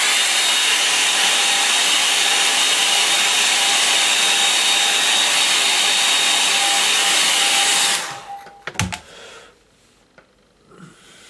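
Hair dryer blowing on a small watercolour painting, a loud steady whooshing roar for about eight seconds that cuts off abruptly, followed by quiet handling clicks.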